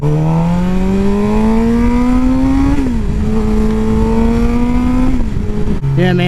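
Motorcycle engine heard from a helmet-mounted GoPro while riding, loud and continuous, revving and pitching up through the gears with a brief dip between shifts and a drop near the end, wind rumble underneath.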